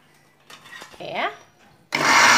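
Kitchen blender grinding tomato, red chili, shallot and garlic into a paste, starting loudly near the end after some clattering and handling noises, a broad steady whir close by.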